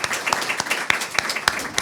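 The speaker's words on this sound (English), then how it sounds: "Have we given Lucy a round of applause yet?" An audience at a talk on medical assistance in dying and mental health claps together, a moderately loud run of quick, uneven claps with a few sharper individual hits standing out.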